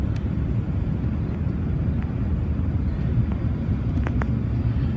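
Steady, loud airliner cabin roar during a landing approach, a continuous low rumble of engines and airflow with a few faint clicks and no talking.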